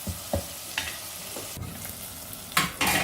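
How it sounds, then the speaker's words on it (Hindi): Chopped tomato and onions frying in a pan, a soft steady sizzle broken by a few scraping stirs of a spoon, quiet and close with no talking. "अब टमाटर को भी इसके साथ भून लेते हैं"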